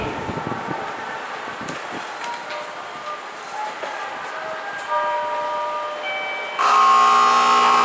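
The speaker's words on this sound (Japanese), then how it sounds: "から列車が発車しますご注意ください" A two-car JR Kansai Main Line rapid train to Kameyama rumbles and hums steadily at Nagoya Station platform 12 as it departs, with a loud tonal horn or whistle sounding near the end.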